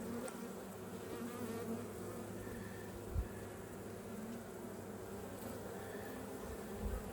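Honey bees buzz steadily through a hive inspection in the goldenrod season, a dense continuous drone with a few brief nearby knocks.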